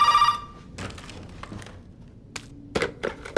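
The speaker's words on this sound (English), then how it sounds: "looks like we've got the phone ringing" Telephone ringing in the Resident Evil 7 video game, a brief electronic ring at the start followed by scattered soft thumps and taps in a quiet room.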